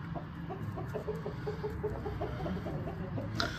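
A Kraken breed Aseel rooster clucks on a poultry farm, a run of short repeated throaty notes at moderate distance over steady background hum, with a brief brighter burst near the end.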